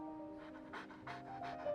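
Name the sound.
dog panting in the video game Genshin Impact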